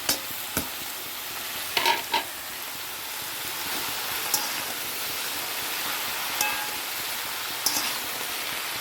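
Washed, drained spinach with salt and turmeric fries in a pan, giving a soft continuous sizzle broken by a few sharp clicks and scrapes of a stirring utensil.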